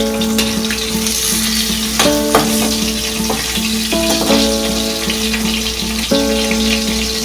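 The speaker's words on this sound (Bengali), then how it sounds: "একই প্রসেসে সবগুলো মাছ ভেজে নেব।" Kanta fish frying in oil in a pan for a spicy oil-based curry: a steady, close sizzle runs throughout, with occasional clinks and clicks of the pan or spatula, and no talking.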